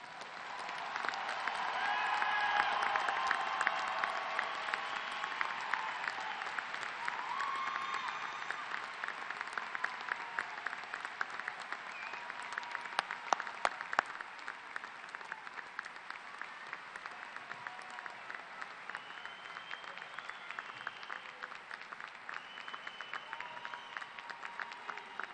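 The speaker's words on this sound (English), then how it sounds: "Can we have a round of applause?" A large audience at the 2012 University of Iowa Graduate College commencement ceremony applauds the graduates, a dense, steady wash of clapping that swells early and then holds evenly for about twenty-five seconds.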